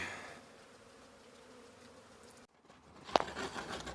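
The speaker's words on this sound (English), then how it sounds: "That's more than just a year's worth of bees." A steady, low buzz of honeybees from a large hive hums throughout, breaking off briefly before a sharp knock and a louder, busier buzzing resumes, during a hive extraction in North Idaho.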